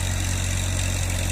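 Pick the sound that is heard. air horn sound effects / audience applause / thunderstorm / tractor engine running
tractor engine running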